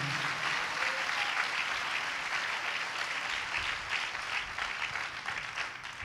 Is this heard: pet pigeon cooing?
no